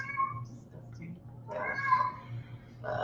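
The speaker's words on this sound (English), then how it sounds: "Yeah, kitty cat's making a lot of noise." A cat meows a couple of times, with rising and falling calls standing out over a low background hum and some nearby human sounds.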